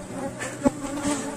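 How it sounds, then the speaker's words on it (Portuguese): Honeybees swarming aggressively around an opened hive give a close, continuous buzzing drone, with individual bees passing near and swelling louder for a moment. "Novamente, o enxame está bastante agressivo, é normal."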